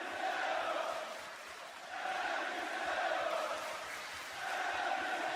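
A live wrestling crowd in Paris roars and chants in a large arena, its sustained cheering rising and falling in swells, with no single voice standing out.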